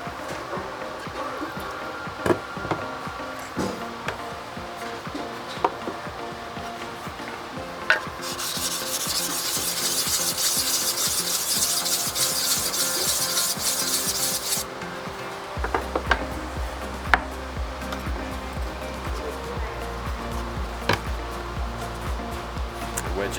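A Barr framing chisel scrapes back and forth across a water stone in a continuous close rubbing, with a louder hissing stretch in the middle, then a low steady hum beneath occasional knocks and scrapes. No one speaks.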